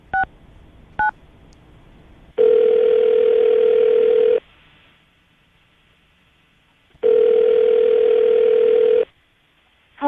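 A phone call being placed: two quick touch-tone dial beeps, then two long, loud ringback tones of about two seconds each separated by silence, with no talking.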